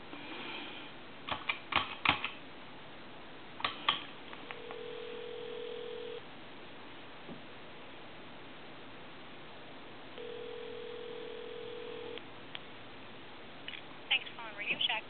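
An old Kermit the Frog telephone dialing Radio Shack, with bursts of clicks and clatter from the buttons and handset, and two long steady tones in between, all faint and close.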